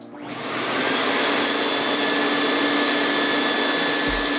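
The vacuum pump on an FX-8 flower infusion machine starts up and settles into a steady, loud, broadband hiss with a constant hum, running alone without voices.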